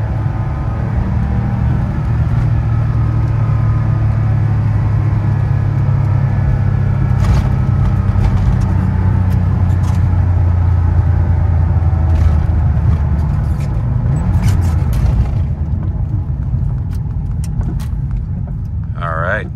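An air-cooled Porsche 911 driving on an early morning in the rain, its steady engine drone and road rumble continuous and loud, with faint clicks and noises over the top near the end.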